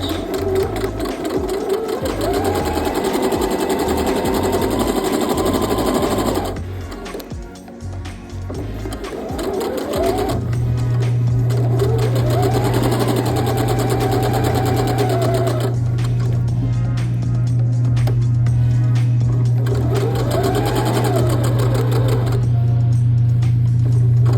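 Sewing machine back stitching a seam on a denim dress, a steady motor whir that runs, pauses and restarts in bursts, with a low hum sustained through the second half, close and loud with no talk.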